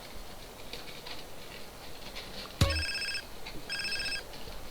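A mobile phone rings in GTA San Andreas, two short bursts of a bright electronic ring tone over quiet game background noise.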